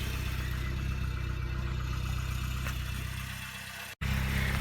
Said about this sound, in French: nous allons démarrer le véhicule, la mettre en position haute